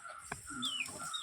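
A young chick clucks softly in a home courtyard, a few faint close chirps and short cheeps over a quiet background, with no one talking.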